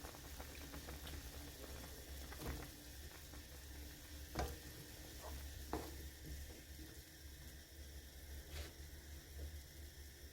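Gochujang stew with potato and zucchini boiling in a pot, a faint steady bubbling simmer with a few soft clicks and knocks, heard quietly at close range with no talking.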